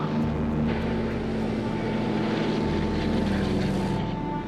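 Douglas DC-3 propeller airliner with its piston engines droning steadily inside the cockpit, a loud continuous hum with low throbbing tones that holds throughout with no talk.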